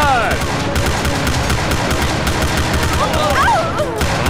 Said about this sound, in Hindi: वो गोलियां चला रहे हैं।